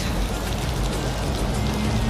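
Steady rain falls on a surface during a wet day, a dense, continuous hiss with no let-up, loud and close, with no talk over it.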